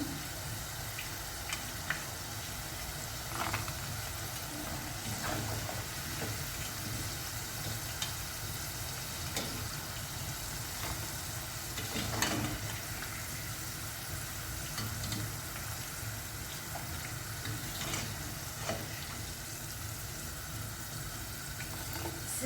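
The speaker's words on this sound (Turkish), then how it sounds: "Bu seferlik de bol yağda kızartıyorum dedim." Steady, continuous sizzling of potatoes deep-frying in plenty of hot oil, with faint crackles and occasional clinks throughout.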